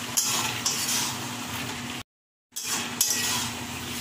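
One pot chicken tehari being stirred and fried in a pot with coriander and green chilli paste, steady sizzling hiss with occasional metal spoon clinks against the pot, close, with a brief dropout in the middle.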